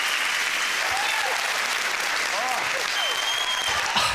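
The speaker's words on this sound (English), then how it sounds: "Every single person in this studio room is, like, cheering because you're doing bad." A studio audience at a dating game show applauds in a continuous, dense wash of clapping, while a few voices rise faintly above it.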